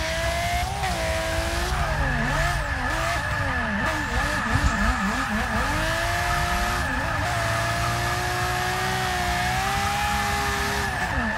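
Drift cars compete at Monza in an ESDA drift event, engines wailing and revving with shifting pitch while tires squeal through turns, loud and continuous throughout.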